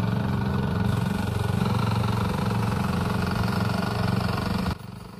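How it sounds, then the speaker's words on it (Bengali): A small diesel-powered plaster floor finishing machine runs steadily at a block-making yard, a close, continuous low engine drone with a rapid chugging pulse that drops off abruptly near the end. "এই মেশিনটি আসলে ডিজেল চালিত মেশিন, খুবই ছোট একটি মেশিন"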